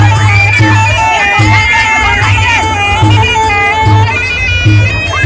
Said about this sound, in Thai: เสียงกรี๊ดเสียงเชียร์ครับ ของบรรดากองเชียร์ของทั้งสองมุม